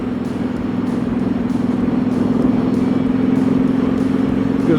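Motorcycle riding along rural back roads past farms on a clear, mild day, with a steady engine drone and wind rush holding constant close to the microphone throughout, no talking.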